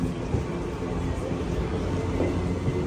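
The SMVT Bengaluru–Murudeshwar Express passes through a railway station, a loud, steady rumble of rolling wagons heard from nearby, with no voices over it.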